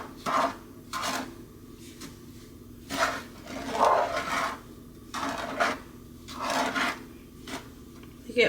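Sugar being stirred for pecan candy in a skillet over medium-low heat, heard as repeated scraping, rasping strokes at a steady rhythm, close and fairly loud, with no talking over it.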